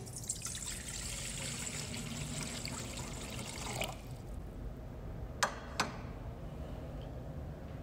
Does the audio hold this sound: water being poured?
yes